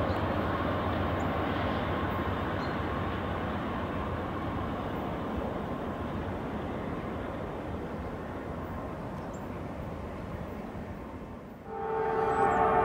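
A Norfolk Southern freight train rumbles past a Church Street crossing in Walton, Kentucky, as a long, steady, moderately loud roll that fades slightly before a brighter tone rises at the end.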